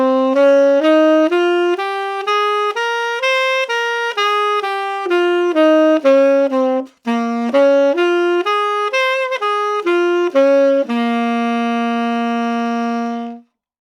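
A Dorian minor scale exercise played on a melodic instrument in a repeating pattern: a clean sequence of sustained single notes climbing and falling in steady rhythm, one short break midway, then a final held note.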